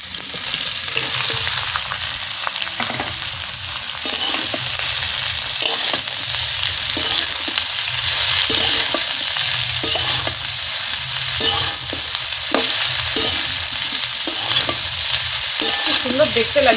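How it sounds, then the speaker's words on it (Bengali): Broccoli and mixed vegetables stir-frying in a pan for a broccoli chicken stir fry, a steady loud sizzle broken by repeated scraping stirs of the spatula, close up with no talking. "সবজিগুলো আমার অর্ধেক ভাজা হয়ে গেছে। দিচ্ছি ব্রকলিগুলো।"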